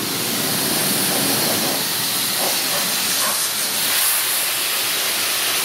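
A pressure washer sprays an MTD Yard Machines 5hp leaf blower at a coin-operated car wash, a loud steady hissing blast with no pauses.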